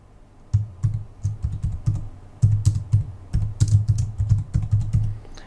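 Rapid bursts of keystrokes on a computer keyboard while a new blog category is typed in, close and clear, in uneven clusters with brief pauses between words.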